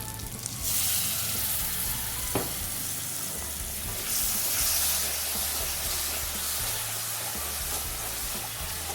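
Grated tomato lands in a pan of frying onion and garlic and sets off a loud, continuous sizzle and hiss, with one sharp clink partway through.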